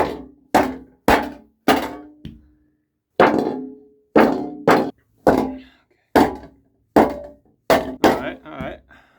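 A cheap hi-hat cymbal is struck by hand with a hammer about fourteen times, each loud metallic thunk ringing briefly before the next blow in a steady, slightly uneven rhythm.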